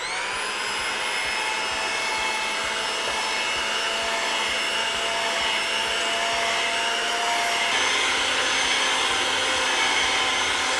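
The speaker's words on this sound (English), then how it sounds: "I'm going to whisk this for about a minute to get that egg mixture and that sugar" An egg and sugar mixture for lemon curd being whisked gives a continuous, loud, even motorised whir with a steady high whine throughout, close by and with no pauses.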